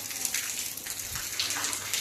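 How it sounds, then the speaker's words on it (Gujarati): Steady rain patters down, a soft, even hiss with scattered drop sounds, no voices present. "ના વરસાદ કેમ નથી રહેતો હે"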